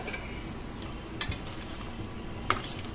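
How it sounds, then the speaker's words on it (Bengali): Curd is stirred into potatoes and spices in a pan over a low flame, a soft continuous scraping with two sharper spoon clinks against the pan, no talking. "আলু এবং সমস্ত মশলার সাথে এটাকে ভালো করে মিশিয়ে নিলাম।"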